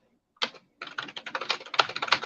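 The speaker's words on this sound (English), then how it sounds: "Sorry, I'm typing in the chat room." Someone types on a computer keyboard: a short burst of keystrokes, a brief pause, then a fast continuous patter of clicks, close and dry with no talk.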